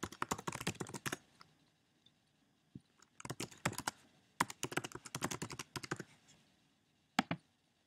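Typing on a computer keyboard while logging in to WordPress 3: bursts of rapid, close keystrokes with short pauses between runs and a final single tap.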